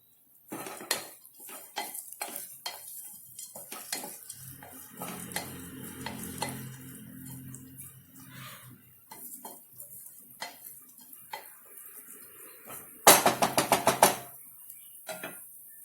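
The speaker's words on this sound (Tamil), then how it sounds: "பாசிப்பருப்பு கலர் மாறாமல் லேசாக வறுத்து விட்டுக்கலாம்." Moong dal roasts in a pan for sweet pongal, with repeated metallic scrapes and clinks of a spoon against the pan over a faint sizzle and a quick burst of rattling taps near the end.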